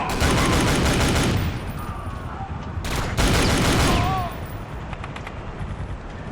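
Dense, continuous automatic gunfire in the Iron Storm shooter, loud and close with overlapping bursts and booms, during a friendly-fire moment against allied troops; it drops slightly in intensity near the end.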